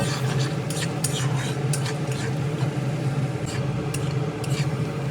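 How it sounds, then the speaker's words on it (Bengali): Chopped onions frying with ginger-garlic paste and tempering spices for a pumpkin and bean rohu fish curry, stirred in a pan with a steady close sizzle and repeated scraping strokes of the spoon. "এখন ফোড়নের সঙ্গে ভাজা আদা রসুনের পেস্টের সঙ্গে পেঁয়াজ কুচি ভালোভাবে নেড়ে চেড়ে ভেজে একটু নরম করে নেব।"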